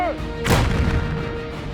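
A WWI-era 75 mm field gun fires a single loud, sharp blast that rolls out into a decaying rumble, with low background noise before and after.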